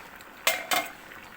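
A cooking pot lid is lifted off a simmering pot of kadam phool made with small rohu fish and potato: two short, close metallic clanks in quick succession, with quiet kitchen background and no talk.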